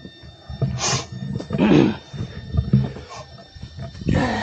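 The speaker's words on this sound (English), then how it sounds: "Gibbon monkeys, I believe they're called gibbons." Gibbons calling in the forest on Mount Rajabasa, Indonesia, rising whoops and hoots repeating in uneven bursts, fairly loud and carrying, with no talking over them.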